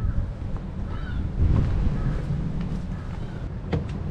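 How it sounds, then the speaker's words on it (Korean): Strong wind buffets a hiking trail on Yeonhwado island, a continuous rough rushing gust across the microphone with low rumbling throughout. "햇빛은 나서 좀 괜찮을 줄 알았더니 바람이 굉장히 많이 불고 춥습니다"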